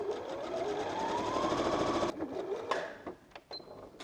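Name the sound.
sewing machine stitching fabric pieces together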